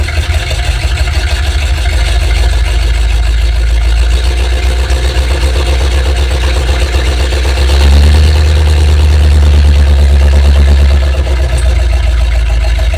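A 7600 engine warming up with a fault sending fuel out through the exhaust valve too early, running loud and close in a steady heavy drone, with a slightly rougher, louder patch toward the end and no talking.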